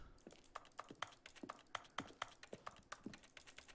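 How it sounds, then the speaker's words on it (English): Keystrokes on a clicky computer keyboard, a quiet, steady run of crisp individual clacks at an even typing pace with nothing else over them. "I think I was just typing"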